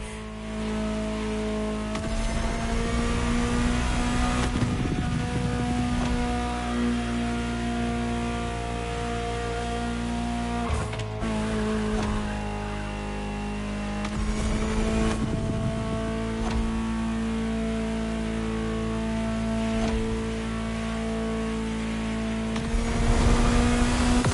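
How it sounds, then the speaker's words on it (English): A powerful Ferrari supercar engine in the video game The Crew Motorfest drones and revs, with pitch climbing and dropping through gear changes, loud and close throughout. "Just listen to the car you're driving."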